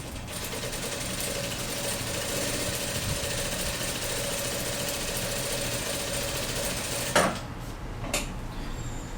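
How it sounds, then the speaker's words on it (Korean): An MS910-D direct-drive lockstitch industrial sewing machine runs steadily as it stitches fabric, a continuous close mechanical whir, then stops near the end with two short clacks. "그 다음에 박음질을 해보도록 하겠습니다"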